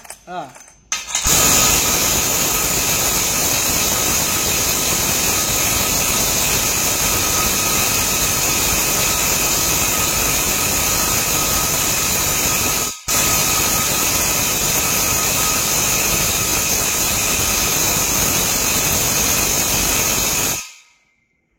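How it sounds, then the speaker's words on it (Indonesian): A Makita impact wrench runs in a long, loud, continuous whirring hammer as it tries to loosen a bolt tightened by a G-Tools wrench. The sound breaks off for a moment near the middle, then carries on until it stops. "Impact Makita tidak mampu membuka baut yang sudah dikencangi oleh G-Tools"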